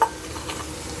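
Onions frying in a pan are stirred, a short burst of scraping and rustling over a steady close sizzle.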